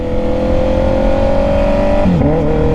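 A Honda CB650R motorcycle engine holds a steady high rev, then drops sharply as the quick shifter cuts power and settles into a lower, continuing drone, loud and close with no talk.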